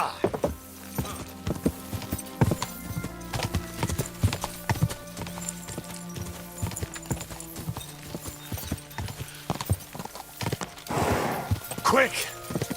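A horse in Kingdom Come Deliverance II clip-clops in a steady galloping rhythm, hooves loud and close over a low musical backdrop, with a brief whinny near the end.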